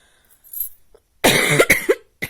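A woman's coughing fit, with several loud, close, harsh coughs in quick succession after a short quiet start, from someone with a sore throat.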